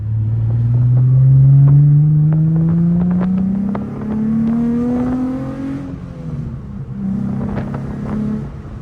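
Revving engine and exhaust of a G35 sedan, loud and close, with rising pitch sweeps over about six seconds, a brief dip, then a further steadier rev with slight rasp. No talking.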